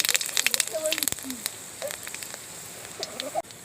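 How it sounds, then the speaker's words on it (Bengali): Whole cumin, bay leaf and whole garam masala sizzle in hot oil for tempering, a soft continuous fizz with crackly pops and bursts, under light background sound. "ফোড়নের জন্য দিয়ে দিচ্ছি গোটা জিরে তেজপাতা দিয়ে দিচ্ছি গোটা গরম মশলা দিয়ে দিচ্ছি"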